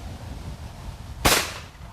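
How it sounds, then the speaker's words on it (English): A single shotgun blast aimed at a springing teal clay target, a sharp loud crack with a short ringing tail over quiet outdoor background. "Grab your gun and let's shoot a couple."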